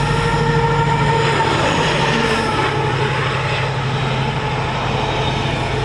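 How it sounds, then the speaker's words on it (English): A Freightliner Class 70 freight locomotive, number 70002, hauling a train from Southampton to Trafford Park through Stafford, roars loudly and steadily at close range, its engine drone and rolling wagon rumble filling the whole stretch. "It's a Freightliner Class 70 from Southampton to Trafford Park"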